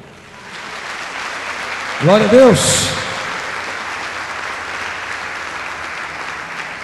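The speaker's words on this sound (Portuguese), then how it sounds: "Aplauda o Senhor Jesus, irmão" A church congregation applauds steadily for the whole stretch, a dense even wash of clapping, while a voice briefly calls out a short praise over it near the middle.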